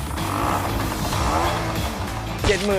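A 1969 Fuji Rabbit Hi-Super 90 scooter, hand-started, with its engine running steadily at a rough idle close by and a brief higher squeal near the end.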